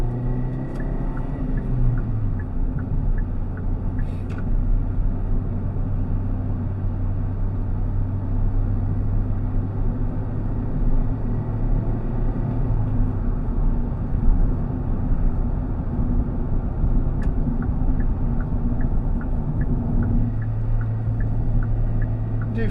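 A 2024 Kia Picanto GT-Line accelerates onto a motorway in traffic, heard from inside the cabin as a steady low engine drone and road rumble, with engine tones rising through the gears and no talking.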